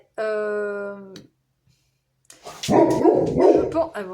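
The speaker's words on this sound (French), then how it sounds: "je fais les guidances avec mes chiens à côté" Dogs bark close by indoors, including a mountain breed dog, with a rough burst of overlapping barks following a sustained whining, howl-like tone and a short silence.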